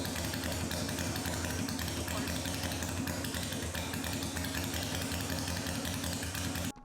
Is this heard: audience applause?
no